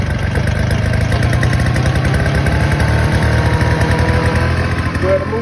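A Tomahawk TMD14 3.7 gallon mister duster blower's small engine runs steadily and loudly at close range, a continuous throbbing idle with a slight change near the end.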